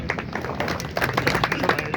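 Steady applause from a crowd at a Veer Bal Diwas event in Neemuch, dense overlapping claps for the full couple of seconds with no voices over it.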